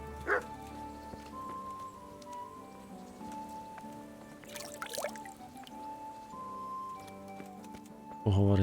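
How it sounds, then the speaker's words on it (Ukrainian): A dog in a video game yips and whimpers in short high bursts, with a single sharp bark, over sustained game music, while a voice talks in the background. "Ну, йде цей песик."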